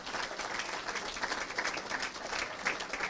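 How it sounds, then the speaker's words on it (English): A Hall of Fame induction audience claps in a steady, moderately distant round of applause with no talking over it. "but let's give them a round of applause."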